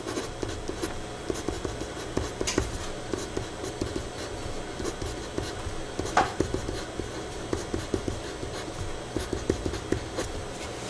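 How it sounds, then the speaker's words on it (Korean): Pen lettering on drafting paper for architectural drawing practice, with soft continuous scratching strokes and small taps in an irregular rhythm, close and quiet, without talk. "인접대지 경계선 한번 써볼게요."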